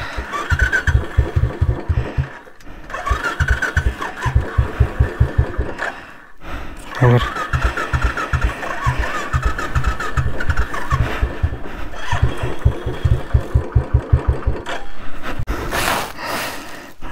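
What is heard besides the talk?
motorcycle engine failing to start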